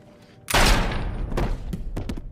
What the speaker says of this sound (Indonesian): Casey mengambil pistol dan langsung menembak si Sensei tepat di kepalanya